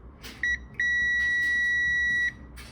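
A multimeter testing a Whirlpool heating element gives a brief chirp, then a long steady electronic beep of about a second and a half, clear and close over faint room hiss.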